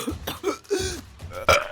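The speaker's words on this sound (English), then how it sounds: "She started gagging," A woman gagging, performed as an audiobook effect: a few short, throaty retching bursts with gaps between them, close and fairly loud, with no spoken words.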